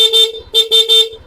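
A stock car horn blares close and loud in three short honks, each a steady two-tone beep with brief gaps between, and no voices.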